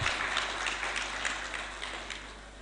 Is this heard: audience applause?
yes